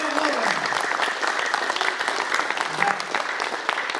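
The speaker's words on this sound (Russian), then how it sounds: "Давайте посильнее похлопаем." A lecture hall audience applauds in a sustained, even burst of many hands clapping together, fairly loud and continuous throughout.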